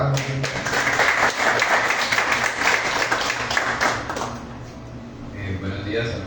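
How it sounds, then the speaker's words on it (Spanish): An audience at a creative writing workshop reading claps for a reader for about four seconds, lively then fading into scattered claps and murmurs as someone begins speaking. "Un aplauso, por favor, para José"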